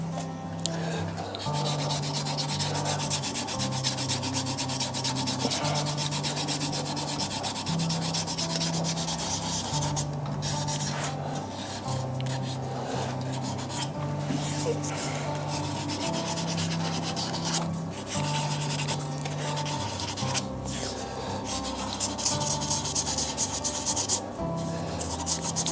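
Continuous abrasive rubbing of sandpaper against a hybrid resin casting spinning on a wood lathe, with a steady hum from the lathe motor underneath, close and even throughout with no talking.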